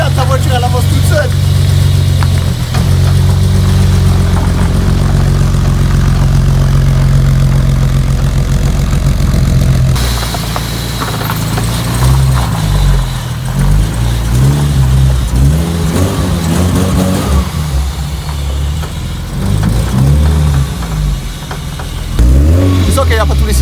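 BMW E30 engine running rough and missing cylinders, a loud uneven idle with lumpy pulsing revs that shifts to a choppier, stumbling note partway through, with people talking over it.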